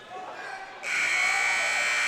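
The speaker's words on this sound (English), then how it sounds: "doesn't get a shot off before the buzzer." End-of-quarter buzzer at a high school boys basketball game in a gym sounds at close range, a steady electronic tone that cuts in partway through and holds loud to the end over faint crowd murmur.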